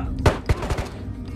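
Pistol shots in the VR shooter Ghosts of Tabor, two sharp reports followed by a few softer cracks in quick succession, fairly close, then quiet.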